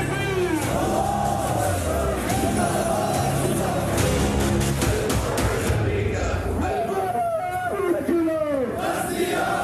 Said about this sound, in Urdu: ہزاروں افراد دارالحکومت تہران کی سڑکوں پر نکل آئے اور امریکہ کے خلاف سخت نعرے بازی کی